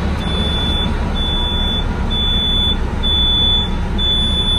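A 1997 Gillig Phantom transit bus's low air pressure warning buzzer sounds in repeated high-pitched electronic pulses, about five beeps with short gaps, over a constant loud diesel engine idle.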